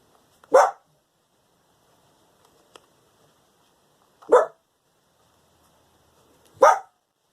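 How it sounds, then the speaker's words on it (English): A small dog barks three times, single sharp yaps spaced a couple of seconds apart, fairly close in an otherwise quiet room. "That's my little dog barking at the same time."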